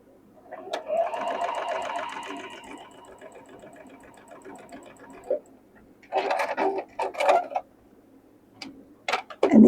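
A sewing machine stitching quilt block triangles runs in a steady rapid burst for several seconds, then stops, followed by short clicks and handling sounds of fabric and tools nearby.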